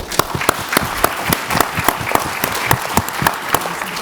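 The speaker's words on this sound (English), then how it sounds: "Let's give a round of applause." Crowd at a rare disease tech innovation pitching event at a summit bursts into applause after a pitch, dense clapping with distinct loud hand strikes punctuating a continuous roar, steady throughout.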